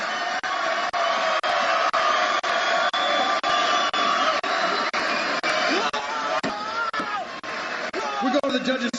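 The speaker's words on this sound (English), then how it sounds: "Please, an official round of applause for an incredible fight." Crowd noise fills the arena after a three-round MMA bout at Legacy Fighting Championship 27, a loud continuous roar of applause and cheering with a few sharp claps cutting through.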